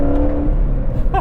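A 2019 Chevrolet Corvette ZR1 with a 755-horsepower engine accelerating hard on a track, heard from inside as a loud, steady engine drone with a rising whine at the very end.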